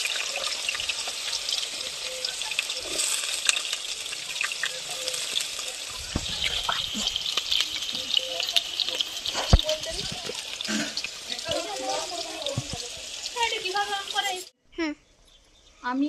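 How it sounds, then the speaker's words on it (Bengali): Boiled potatoes are strained under running water in a home kitchen, a steady splashing hiss and trickle throughout, with voices talking over it before the flow briefly cuts off near the end. "দাঁড়াও আগে আমি একটু আলুটা ছেঁকে নিতে"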